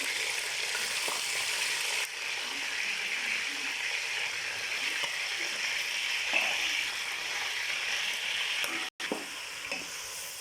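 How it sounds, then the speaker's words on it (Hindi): Chicken pieces fry in a pan for korma, giving a steady, close, bright sizzle that runs throughout, with faint stirring scrapes and a brief dropout near the end. "चिकन ज़रा फ्राई हो जाए बाकी मसाले हम डालते हैं अपने।"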